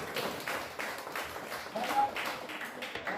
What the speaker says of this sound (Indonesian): Sekali lagi tepuk tangan untuk kita.